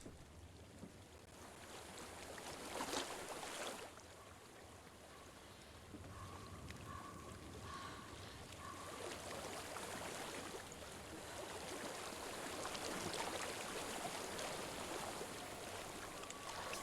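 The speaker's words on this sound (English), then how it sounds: "I hear water." Flowing stream water in the video game Hellblade, a faint continuous rushing wash with soft wind-like swells and a faint tonal hum in the middle, no voices.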